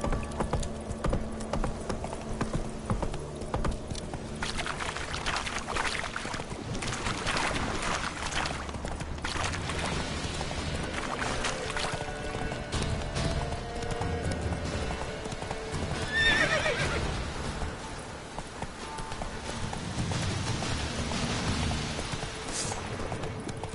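In The Witcher video game, the horse Roach gallops with a rapid, steady clip-clop of hooves and lets out a whinny partway through, heard alone at moderate volume.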